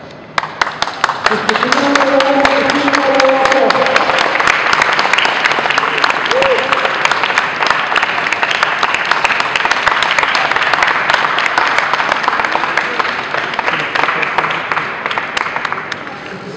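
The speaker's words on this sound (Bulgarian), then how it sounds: "Дами и господа, изключително ми приятели, моля за вашите аплодисменти." Loud, sustained audience applause fills the hall at an Opel Astra 2015 presentation, dense clapping swelling after a second and holding steady, with a presenter's voice speaking over it near the start.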